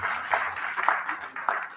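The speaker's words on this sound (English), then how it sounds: "Another round of applause for them, please." A brief, modest round of clapping from an audience at a research review meeting, uneven and fading, with talk mixed in.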